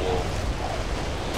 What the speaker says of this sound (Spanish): y esto es como una especie de explosión